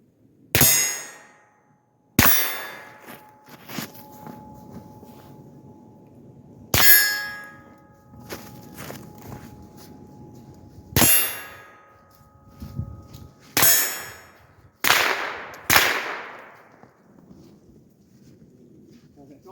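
Rifle shots ringing off steel targets at close quarters with a 5-25x56 Primary Arms SLX scope, about eight sharp cracks at irregular intervals, each followed by a metallic clang and a short decaying ring.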